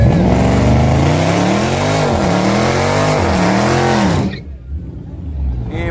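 A street race car with a catless intake accelerates hard, its loud engine climbing through several rising revs and gear changes, then cutting away abruptly near the end, with faint background voices.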